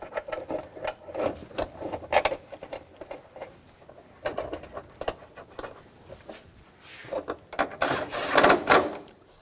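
Ratchet snugging down bolts on a panel of a 2000-2006 BMW X5 3.0L L6 during drive belt work, a busy run of rapid clicking and rattling clatter with shifting tool noise, close by.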